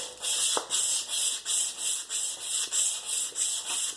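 Steel drawknife back rubbed flat across a sharpening stone in steady back-and-forth strokes, about a dozen even rasping passes at close range with no talk.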